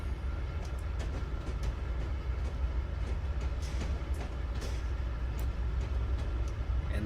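ES44AC diesel locomotives in the Train Sim 2019 video game at Cajon Pass, a steady rumbling drone with faint clicking and rattling on top, continuous and even.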